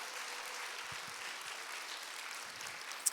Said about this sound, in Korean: 열렬한 박수로 우리 같이 함께 환영하도록 하겠습니다